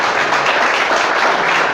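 A church congregation claps together, a thick, even wash of many hands that fills the space steadily and evenly, with no talking over it.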